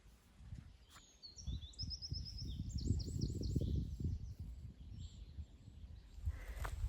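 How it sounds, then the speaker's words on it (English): A small bird calls repeatedly outdoors in a dale near a forest, a series of quick high chirps in short bursts, fairly distant over a steady low rumble of wind and rustle. "let's have a look up there, that bird, see if I can get that bird for you"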